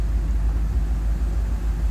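A 1970 Cadillac DeVille convertible, an old survivor car with worn brakes, a faulty radiator and very old tires, rumbles steadily as it drives. The low engine drone is loud and continuous, with no voices.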